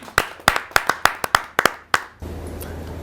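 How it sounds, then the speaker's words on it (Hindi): A few people at a poetry gathering clap near the microphone, giving about a dozen sharp, distinct claps in an uneven rhythm that stop suddenly and leave a quiet hum. "आपके जोरदार तालियां मिले श्री आदेश त्यागी जी"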